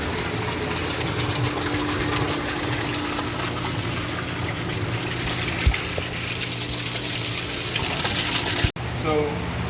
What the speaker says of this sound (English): it'll take 5 or 10 minutes to fill this back up before it starts pumping back out into the fish tank